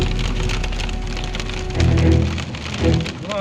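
Hail pelting down hard on wood and cars during a late-April storm, a dense, loud rattle of impacts that swells and surges midway, with no voices.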